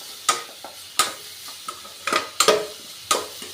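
Vegetables are half-fried in a pan with a few sharp, separate scrapes and stirs over a faint sizzle, close by and without voices.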